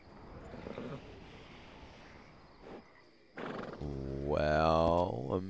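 Horse in Red Dead Redemption 2 lets out a loud, close whinny with a rising then falling pitched neigh near the end, after a stretch of background game noise and clip-clop hooves.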